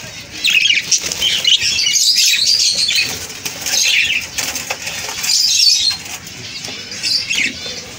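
Large female pigeon released by hand, wings clapping and flapping in several loud close bursts as it takes off and flies, with faint chirps in between.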